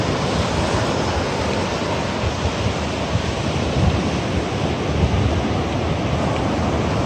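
Ocean waves wash onto a beach shore at a resort in Nasugbu, Batangas, as a steady, loud rushing roar mixed with wind noise on the microphone, with no talk.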